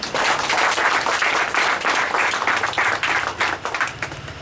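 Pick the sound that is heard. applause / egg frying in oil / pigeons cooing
applause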